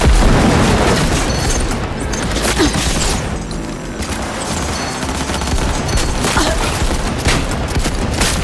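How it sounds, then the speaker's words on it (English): A grenade blast and a heavy barrage of gunfire in a Cyberpunk 2077 firefight: loud, dense shots and booms run almost the whole time without a break. "Grenade!"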